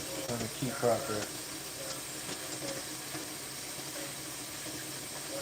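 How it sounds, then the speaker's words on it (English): A water tap left running, a steady soft hiss of flowing water throughout, with a voice speaking briefly near the start. "Let this water stop running."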